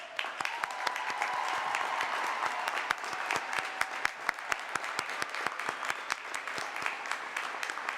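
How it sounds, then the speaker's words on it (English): A graduation commencement audience gives faculty and staff a sustained round of applause, many hands clapping evenly at a moderate distance in a large hall for several seconds. "Faculty and staff, please stand and receive a well-deserved round of applause."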